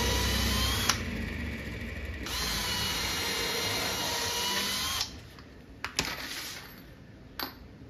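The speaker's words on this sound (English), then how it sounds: "we're gonna drill a couple pilot holes into each one of these" A power drill whirs steadily in bursts up close, drilling pilot holes into braces of an arcade cabinet, with short pauses between and a few clicks and knocks as the bit stops.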